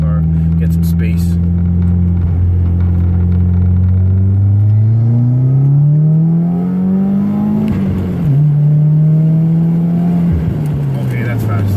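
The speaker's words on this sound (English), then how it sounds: "I'm about to just do a quick pull. Nothing too crazy. Just see how the car feels." A 2016 Subaru WRX pulls hard through the gears, its engine note climbing steadily in pitch, dipping briefly at a shift, then rising again, loud and close from inside the car.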